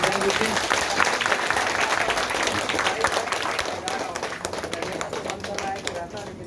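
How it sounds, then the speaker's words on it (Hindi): Audience at a union association speech applauds vigorously in an indoor hall, a dense, steady wash of many hands clapping that carries on for several seconds and thins slightly toward the end. "चलो हाँ राम साहब को जोरदार तालियों से बधाई देते हैं।"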